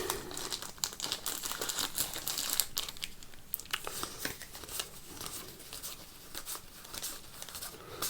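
Board game cards in protective sleeves being handled up close, giving quiet, continuous crinkly rustling and soft shuffling.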